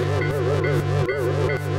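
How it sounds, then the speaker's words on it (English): Industrial machinery in the video game March of Industry hammers back and forth in a steady mechanical loop, a dense droning clatter with regular pulses and a whining, wavering tone underneath. "that is the sound of your ears ringing because of the back and forth hammering"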